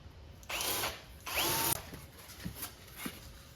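Power drill boring into material, two short bursts of close, whirring drilling separated by a pause, followed by quieter clicks and handling noises.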